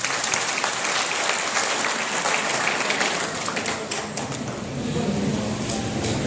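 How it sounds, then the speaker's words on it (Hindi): Steady, dense applause from an audience at a spiritual discourse and blood donation camp event, sustained and fairly loud throughout with no break. "एक बार इन वास्ते भी जोरदार तालियां बजाओ।"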